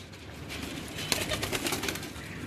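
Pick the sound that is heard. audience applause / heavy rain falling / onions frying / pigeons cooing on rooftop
pigeons cooing on rooftop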